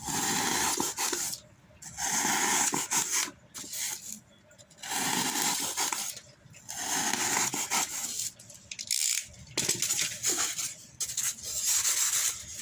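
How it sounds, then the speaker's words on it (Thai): Someone bores a hole by hand through a foam baisri frame, producing a series of rough rasping bursts, each lasting a second or two and separated by short quiet gaps. "จากนั้นเราก็เจาะรูนะครับ"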